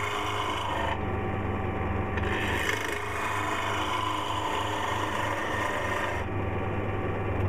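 Wood lathe turning a wood blank down to a cylinder, a continuous loud rasping scrape over a steady motor hum, nearly unbroken from start to finish and heard up close.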